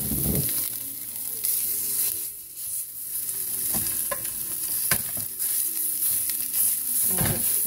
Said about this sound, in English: And fry that up.